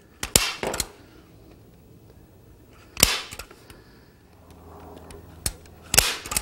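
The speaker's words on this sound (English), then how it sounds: "Now I'm going to staple along the edge about 3/8 of an inch in from the opening" A staple gun fires into screen material along the edge of a gazebo frame, four sharp separate snaps spaced a few seconds apart, close by with quiet shuffling between.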